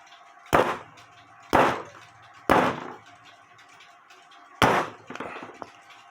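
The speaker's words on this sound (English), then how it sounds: "and the spring pops off" A clock mainspring pops off its barrel onto a piece of wood during repair of a Sessions 1959 mantel clock, giving four sharp, close metallic snaps spaced about a second apart, each with a brief ringing tail.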